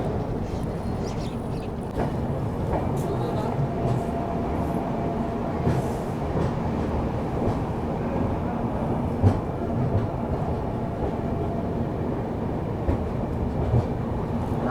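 The Champaran Humsafar Express train running, a steady loud rumble and rattle of the coach with faint clickety-clack over the rails, continuous throughout with no talk.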